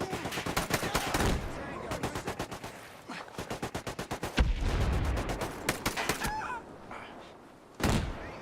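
Rapid bursts of automatic gunfire crackle through a video game firefight, coming in repeated volleys with short pauses between them and a heavy boom near the middle, with shouting players heard in places.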